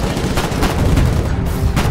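Tank gun fire in the Foxhole war game, a dense loud barrage of heavy booms and rumbling blasts filling the whole moment, close and continuous with no voices.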